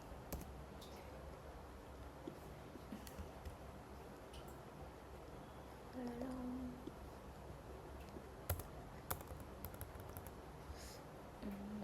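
Keys tapping on a computer keyboard while C++ code is typed, a steady run of light clicks under a soft room hum, quiet and close.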